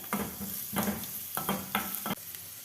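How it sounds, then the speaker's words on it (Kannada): Chopped onion and a few curry leaves frying in a little oil for a carrot curry, with a soft steady sizzle and a handful of distinct stirring scrapes close by, no talking. "ಅದಕ್ಕೆ ಸ್ವಲ್ಪ ಎಣ್ಣೆನ ಫ್ರೈ ಮಾಡ್ಕೊಂಡು ಸ್ವಲ್ಪ ಫ್ರೈ ಮಾಡ್ಕೊಂಡು ಈ ಥರ."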